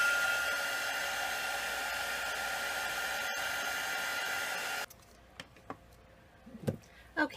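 A dryer blows over a craft journal page in a continuous loud whooshing whir for about five seconds, then cuts off abruptly, leaving a quiet room with a few faint clicks and handling noises.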